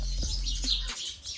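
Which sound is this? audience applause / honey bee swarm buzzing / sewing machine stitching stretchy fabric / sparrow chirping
sparrow chirping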